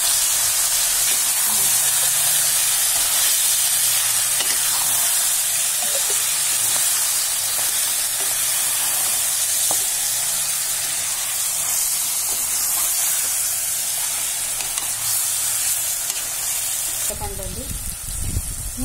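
Mutton tahari sizzles and steams in a pot on the stove, a steady loud frying hiss throughout with faint scraping from stirring, ending in a brief clatter.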